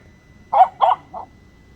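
A German Shepherd gives three quick barks, the first two loud and close together and the last shorter and softer, with nothing else sounding.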